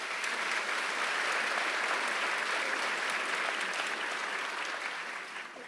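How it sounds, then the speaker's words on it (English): A large audience at a book festival closing address applauds the volunteers, a broad, continuous wash of clapping heard from within the hall that stays steady and then eases slightly at the end. "Please give them a round of applause."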